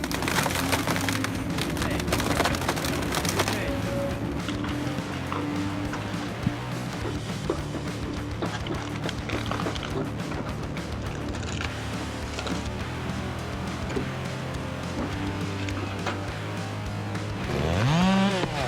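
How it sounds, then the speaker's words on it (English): A chainsaw engine drones loudly and continuously as it cuts through wood, with crackling splintering noise, before revving up sharply at the end. "The chainsaw growls, its razor-sharp teeth spinning at an incredible speed."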